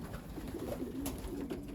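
Racing pigeons coo softly at the loft, a low steady murmur of overlapping calls close by, with no talking.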